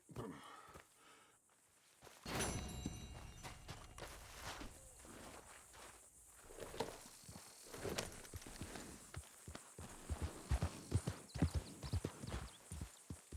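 Hooves of a horse in the video game Red Dead Redemption 2 clip-clop steadily at a walking pace, growing busier and louder toward the end, with a brief burst of other noise early on.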